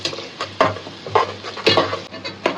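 Biryani spice paste fries in hot oil for chicken biryani, a steady sizzle under repeated close scrapes and clinks of a spoon stirring against the pan.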